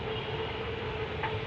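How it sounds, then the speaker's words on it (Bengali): A metro rail train passing at a distance at night, a steady low rumble and rolling rail noise throughout, with a faint higher tone and a small click near the end, no talking. "ওই অদূরে চলে যাচ্ছে মেট্রো রেল,"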